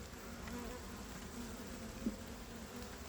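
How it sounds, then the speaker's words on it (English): Honey bees buzz around an open hive during a beekeeper's inspection, a steady droning hum close to the microphone with a few louder passes of single bees, one brief knock partway through, and no talking. "you can see there's a lot of bees in there"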